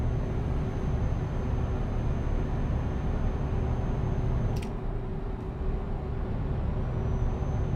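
Loud truck engine in the driving game Euro Truck Simulator 2, a constant low drone with a brief sharp air hiss midway, and no talking.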